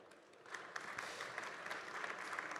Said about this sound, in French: Merci de me rejoindre Fabrice, vous pouvez l'applaudir.